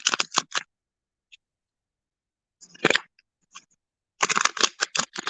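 Cards are shuffled during a reading in crisp, close bursts of rapid riffling clicks, separated by a few quiet gaps.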